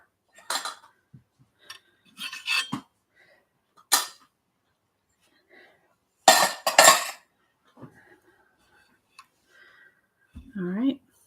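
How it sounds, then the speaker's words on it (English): Dirty dishes and cutlery are set down on a chair in a home kitchen: a few sharp clinks and clatters in separate bursts, close by, with brief speech between them. "Excuse the dirty dishes here. I'm going to set them in the chair."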